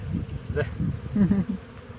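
Georgian honeybees hum close by in fluctuating bursts, the buzzing swelling and fading, with a voice briefly mixed in.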